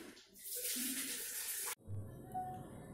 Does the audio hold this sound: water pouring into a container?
yes